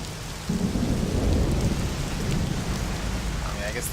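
Steady rain and rolling thunder on a rainy night in the video game Mafia, near a bridge, as a loud continuous downpour with a deep rumble swelling early on.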